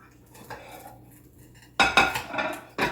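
A knife saws through a crispy loaf on a plate, opening with faint crackling strokes and then breaking into louder, close crunching and scraping bursts against the dish.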